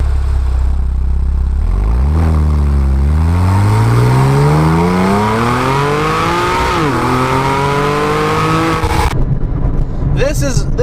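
Porsche 911 Carrera GTS accelerating hard, the engine note climbing loudly through successive paddle upshifts with sharp drops between gears, then backing off into a rougher rumble near the end.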